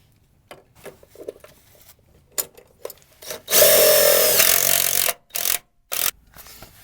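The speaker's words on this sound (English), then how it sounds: "I put 1 screw into the rocker panel from behind, and I'm going to put one in this surface here." Power drill driving a self-tapping screw into the rocker panel of a ProMaster van: a few short whirring bursts, then a sustained loud grinding spin of about one and a half seconds, followed by brief trigger blips. The sound is close, with no talking.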